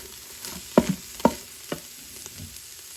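A spoon scrapes and stirs chopped garlic through a pan for bacon cheeseburger soup: two louder, distinct scrapes near the start, then softer strokes over a faint, steady sizzle, with no talking.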